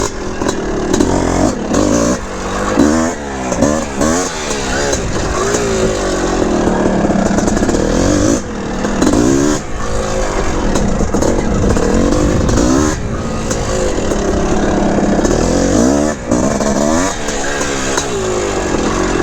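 A 1981 Honda CR450R Elsinore big-bore two-stroke dirt bike being ridden on Hoosier tires, engine loud and close, revving up and down repeatedly with rapid throttle blips and rising pitch sweeps.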